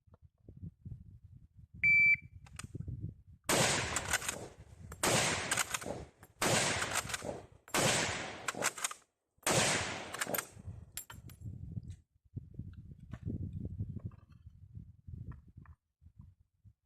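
A shot-timer beep is followed by five loud rifle shots from a Finnish Mosin m/39, fired in a modified Bill Drill. The shots come at an even pace roughly a second and a half apart, and quiet background follows.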